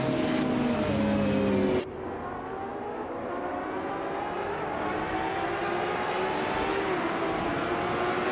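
Race cars, including a 1996 Lamborghini Diablo, at the start on the Detroit Street Circuit, a loud engine roar that cuts off abruptly and gives way to a steady, slightly rising drone of engines.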